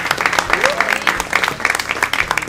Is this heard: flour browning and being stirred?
no